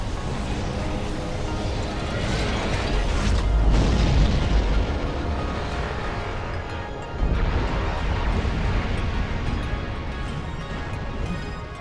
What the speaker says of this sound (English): This is the Big Impact Smack Missile Launcher, very respectable damage, but shines in bringing the thud.